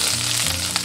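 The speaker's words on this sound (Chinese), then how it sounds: "锅中倒食用油，下入蒜片葱白炒香" Garlic slices and scallion whites sizzle in hot oil in a pan, a steady, close frying hiss with a small pop near the end.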